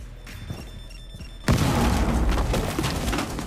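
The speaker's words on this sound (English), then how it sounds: "we bring flashbangs" A flashbang detonates in the tactical shooter Rainbow Six Siege, a sudden loud boom at mid-clip followed by a sustained ringing, noisy wash after quieter background ambience.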